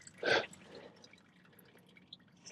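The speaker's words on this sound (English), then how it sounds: "It's got a little funnel under there that the oil will follow down and then drip down in the pan." A single soft drip of engine oil falling through a small plastic funnel into a drain pan beneath a 2020 Ford Ranger, one brief close splash followed by quiet.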